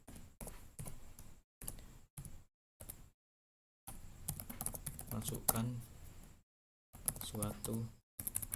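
Typing on a computer keyboard while entering values into a MATLAB program, quick runs of clicky keystrokes in short bursts separated by silent gaps, close and quiet.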